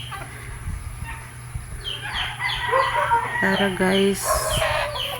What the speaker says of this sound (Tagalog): Mao ni siya amo ang mga alagang manok.